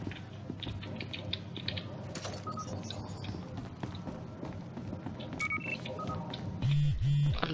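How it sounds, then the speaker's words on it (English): A phone sounds in the Battlefield Hardline video game, with short tonal beeps scattered through a busy bed of clicks and tapping, ending in a louder repeating warbling ring near the close. "I can fucking hear a phone."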